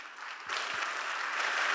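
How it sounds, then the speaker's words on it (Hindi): Applause from an audience at a Jashn-e-Kashi event: a short, steady wash of clapping from a crowd, moderately loud and continuous without pause. "जोरदार ताली होनी चाहिए।"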